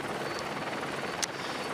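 A helicopter filming the Giro d'Italia cycling race in Italy gives a steady, fairly faint rotor drone throughout the short stretch, with no voices over it.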